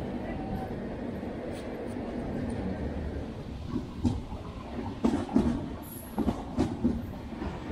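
Jaipur-Delhi Double Decker Express (train 12985) rolling along after departing Alwar station, a steady loud rumble of carriages with a cluster of sharper clacks and thumps in the last few seconds.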